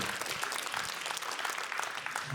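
Audience breaks into dense, steady applause, many hands clapping together at moderate loudness with no voices above it.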